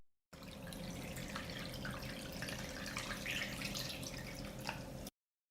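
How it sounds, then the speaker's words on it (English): Water poured into a cloth-lined pot around glass jars of sliced pickles, a continuous soft trickling and splashing at low level without any talking. "I pour water up to the height of the lid."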